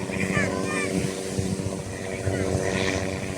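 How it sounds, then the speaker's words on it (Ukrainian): A helicopter drones overhead above a beach in Bali with a steady rotor hum and chop, while faint voices murmur in the background. "От пролітає гелікоптер."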